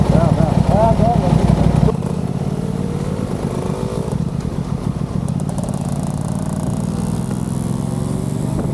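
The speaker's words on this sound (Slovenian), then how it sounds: "dvotakten motor ima malo drugačen zvok, kot štiritakten" A two-stroke motorcycle engine runs with a raspy, buzzing drone, loud and close at first, then settling into a steadier, slightly softer note with fluctuating revs.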